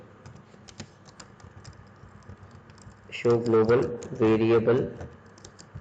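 Fingers tap out light, rapid clicks on a computer keyboard, entering a MySQL command. Someone speaks over the later part of the typing.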